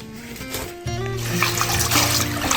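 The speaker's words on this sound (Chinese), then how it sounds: "先把菠菜洗一下。" Fresh spinach is rinsed under a running kitchen tap, a steady trickle that grows into a fuller splashing stream of water.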